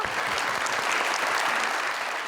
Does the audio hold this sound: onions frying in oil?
no